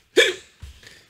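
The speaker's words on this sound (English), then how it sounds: "Sorry about my hiccups, people." A single sharp hiccup from a man, loud and close, followed by a softer breathy catch, with no talking around it.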